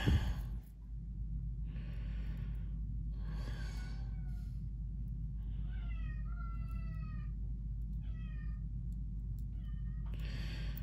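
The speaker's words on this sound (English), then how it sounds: "Y'all hear my cat, Oliver?" A pet cat named Oliver meows repeatedly from close by, several drawn-out cries spaced a second or two apart, some rising and wavering, over a low steady room hum.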